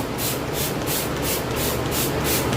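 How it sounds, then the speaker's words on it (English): A spray bottle of vinegar and water hisses onto a paper towel in a quick series of rapid, evenly spaced squirts, close by and steady. "now I'm going to just spray the paper towel"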